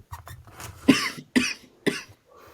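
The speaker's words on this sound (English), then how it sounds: "I've been coughing a lot" A person coughs several times in quick succession, close to the microphone, with short raspy bursts separated by brief pauses and some breathy throat sounds before them.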